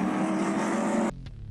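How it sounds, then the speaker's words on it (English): Several NASCAR race car engines firing up together into a loud sustained roar that cuts off sharply, leaving only a faint rumble. "As the engines are all fired up"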